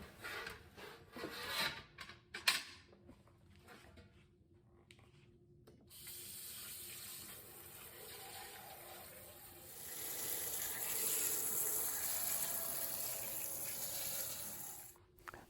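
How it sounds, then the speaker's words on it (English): Cold tap water runs over blanched Roma tomatoes in a sink, a steady close hiss and splash that starts after some handling knocks and grows louder and fuller partway through, with no talking. "I want to quickly cool the tomatoes by running cold water over them"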